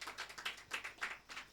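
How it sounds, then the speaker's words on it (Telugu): An audience clapping in quick, steady rhythmic beats, faint and somewhat distant, with no talk over it. "కొట్టు చప్పట్లు గట్టిగా."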